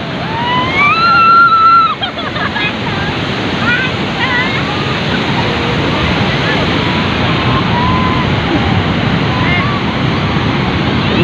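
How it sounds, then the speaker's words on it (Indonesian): Big ocean waves surge and crash continuously at Karapyak beach in Pangandaran, West Java, a loud, wide roar of surf with wind, while a voice talks briefly at the start. "Ombaknya gede banget ini."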